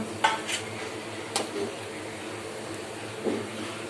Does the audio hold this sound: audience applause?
no